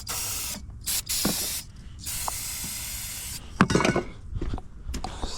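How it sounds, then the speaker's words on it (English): Starter fluid sprayed from an aerosol can into the engine of an abandoned Jeep Cherokee, heard as several close hissing bursts of varying length with brief pauses and a few clicks and handling noises. "Let's give it a little starter fluid."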